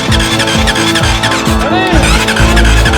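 A Honda CRF dirt bike engine fires and revs, loud and close, with rhythmic pulsing bursts and a rising whine through the middle.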